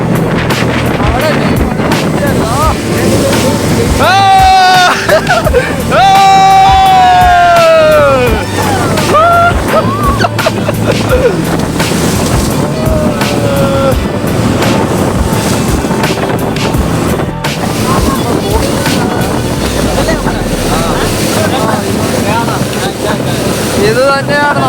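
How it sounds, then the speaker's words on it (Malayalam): A speed boat runs across open water, with a steady roar of wind and rushing spray throughout and voices and some tonal sounds layered over it. "എൻ്റെ ലൈഫിൽ ഞാൻ ആദ്യമായിട്ടാണ് ഇങ്ങനെ സ്പീഡ് ബോട്ടിൽ"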